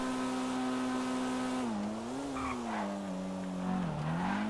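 Car drifting in a Yakuza video game, a sustained engine tone with tires squealing, the pitch sliding and wavering as the car slides, loud and close.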